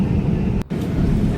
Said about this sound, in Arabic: قبل ما تهبط الطائرة.